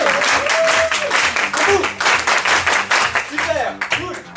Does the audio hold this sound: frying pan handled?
no